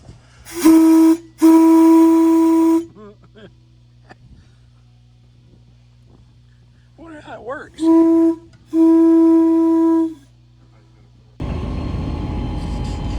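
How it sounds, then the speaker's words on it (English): The whistle of an old steam locomotive on static display blows several loud, sustained blasts in two pairs, with brief voices between them, followed by a steady engine rumble. "They still have the train whistle working."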